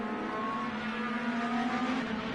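IndyCar race cars in Project Cars 2 roar off the start at Road America, a dense, loud, continuous engine drone with a slowly rising pitch and no pauses.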